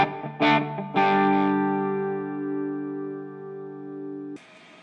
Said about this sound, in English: I brought the distortion all the way up to the top.